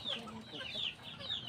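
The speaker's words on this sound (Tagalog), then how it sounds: "So ito po sila mga kapanok ko." Pet chickens clucking busily in a quick, close run of calls with a few higher squawks, loud and continuous across a short burst.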